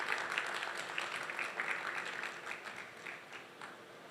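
Steady audience applause at a gig economy panel event as speakers are invited on stage, a continuous wash of many hands clapping throughout, gradually easing off.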